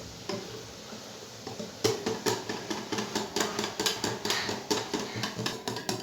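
Cake batter with vinegar is whisked in a bowl, giving quick, regular clinks and taps of a utensil against the bowl that begin softly and turn into a steady, faint rhythmic clatter.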